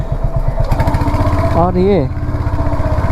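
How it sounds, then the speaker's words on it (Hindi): Royal Enfield Hunter 350 motorcycle after its third service, engine idling close and loud with a steady thumping beat, while someone speaks briefly over it midway. "ये मेरा बाइक में ये एक नॉइज़ आ रहा है इधर से"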